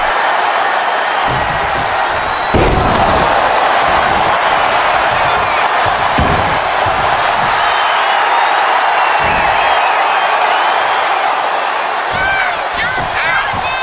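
Wrestler slams an opponent to the mat in WWE 2K25 during a SmackDown match, heavy thuds breaking through steady arena crowd noise and cheering, with commentary-style talk over it.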